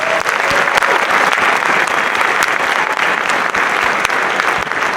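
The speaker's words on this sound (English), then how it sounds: "Give them one more round of applause." A concert audience applauds band students at a school winter band concert, sustained loud clapping that fills the hall evenly from start to finish with no speech over it.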